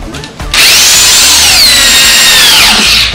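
A power drill drives a 2-inch number 8 screw into a wooden picket for a picket fence panel screen, a loud, close, steady whine that winds up sharply and holds for nearly three seconds.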